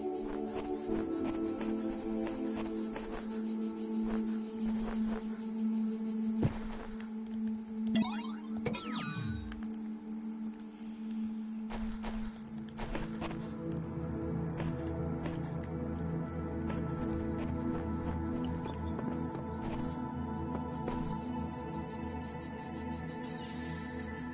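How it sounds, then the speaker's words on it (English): Cicadas drone in a continuous, buzzing chorus within The Talos Principle's outdoor game world, a steady layered hum with bright shrill tones, and no voices are present. "Oh, so if you listen to the cicadas..."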